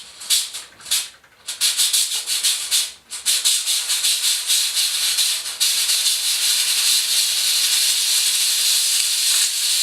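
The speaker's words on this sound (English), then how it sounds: "You have to hold it down for a bit for the steam. It's not quite instant steam." A Beldray 12-in-1 steam cleaner hisses steam, close and loud, starting in short sputtering bursts before settling into a continuous steady hiss.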